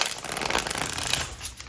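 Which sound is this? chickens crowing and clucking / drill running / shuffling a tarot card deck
shuffling a tarot card deck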